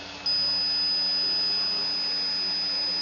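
An electric motor enabled on a drive controller during a vibration-avoidance setup starts up abruptly and runs on with a steady high whine and hum.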